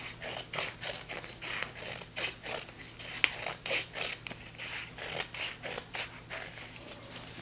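Scissors cut kinesiology tape into pieces in a fast, regular run of crisp snipping clicks close to the microphone, a soft low hum beneath and no talking.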